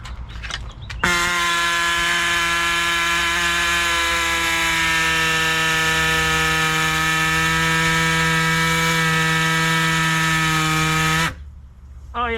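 A power saw cuts into a Corvette body during a lift conversion into an off-road Corvette, a loud steady high-pitched whine holding unbroken for about ten seconds before stopping abruptly.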